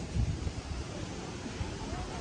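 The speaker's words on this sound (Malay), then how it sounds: "Tengoklah angin kuat." Strong wind gusts before heavy rain, rumbling and buffeting against the microphone in uneven bursts, loud and close for a couple of seconds.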